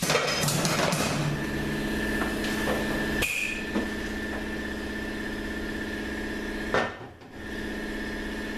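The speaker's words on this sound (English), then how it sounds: "now we're going to blow the piston out" Compressed air blasts an E4OD transmission piston out of its bore: a loud, hissing rush of air up front, with shorter bursts and knocks later over a steady mechanical hum.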